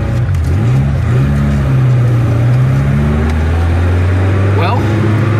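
A 1972 Toyota Celica with a crooked steering wheel and freshly redone front suspension pulls away and accelerates, its engine note climbing and stepping through gears, loud and close from inside the car.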